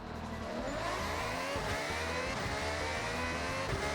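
A car engine in the video game Forza Horizon 6 revs steadily and loudly throughout, a continuous droning roar with shifting pitch and no voices.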